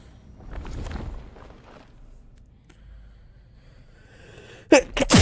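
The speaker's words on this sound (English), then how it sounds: "Just had to stop there and sneeze for a second." A single sharp sneeze bursts out loudly near the end, after a stretch of quiet room noise and soft shuffling.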